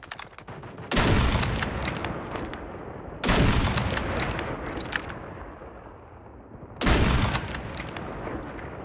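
Gunfire in a video game match on the Alcatraz map, three sharp loud bursts of shots, each trailing off into a long echoing decay, with no talk.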